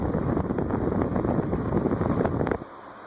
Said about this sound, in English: High is a lot of breeze and a lot of wind noise.